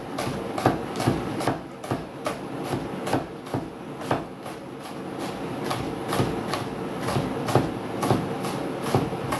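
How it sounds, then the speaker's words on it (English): A knife dices ingredients for chicken tikka masala on a cutting board, with steady evenly spaced chops repeating at a brisk rhythm, close and clear with no talk. "But everything gets diced."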